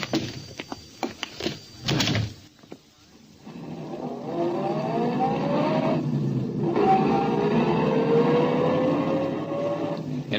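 A car in an old-time radio drama, first doors and thumps as someone gets in, then the engine starts and runs with a steady, rising hum for several seconds, close and moderately loud, no voices.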